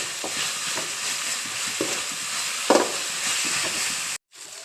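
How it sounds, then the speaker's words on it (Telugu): Grated coconut frying and being stirred in a pan for meal maker rice, a steady close sizzle with scraping spatula strokes, cutting off abruptly near the end. "ఇందులో ఉన్న పచ్చివాసన పోయేంత వరకు బాగా వేయించుకోవాలి"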